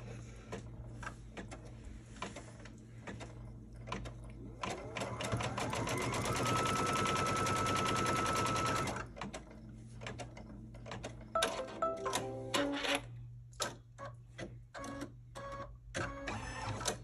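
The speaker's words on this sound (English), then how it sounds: "So you place it over that center stitching and then you stitch it." A sewing machine stitches a pieced pillow block, its rapid mechanical whir building to a sustained run in the middle, with quieter clicks and handling noises before and after.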